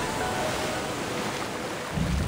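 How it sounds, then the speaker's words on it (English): Water draining from an elevator shaft in the video game Okami HD, a steady broad rushing wash with no break, swelling slightly louder near the end. "that's gonna drain probably the water from the elevator"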